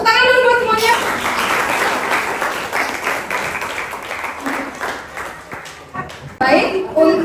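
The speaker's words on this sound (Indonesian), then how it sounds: "Tepuk tangan dulu buat semuanya." High school students in a classroom clap together in a brisk burst that continues for several seconds, fairly close, with some talk mixed in and the clapping thinning toward the end.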